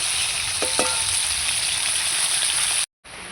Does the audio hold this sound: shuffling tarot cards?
no